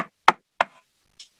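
Knuckles tap on a desk to imitate knocking on a door, three sharp close knocks followed by a fainter fourth tap, isolated in silence.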